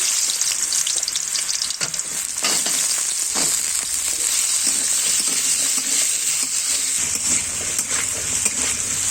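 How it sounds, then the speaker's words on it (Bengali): Boiled potatoes frying in hot mustard oil in a wok for chicken ghugni, a loud, continuous crackling sizzle with occasional scraping stirs, no voices. "এবার আমি আলুগুলো ভেজে নেবো একটু।"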